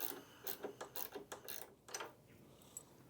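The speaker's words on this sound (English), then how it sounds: "Taking your 3/16 cut Allen, we will remove the brush lift shoulder bolt." Quiet, irregular metallic clicks and short scraping ticks come from a 3/16 Allen key turning out a brush lift shoulder bolt on a floor buffer, close up and without talk.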